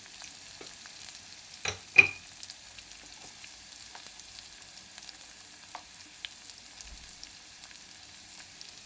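Onions frying with salt in a pan for a taro curry make a faint, thin sizzle, broken by two sharp utensil clinks close together near the two-second mark and a few softer taps afterward.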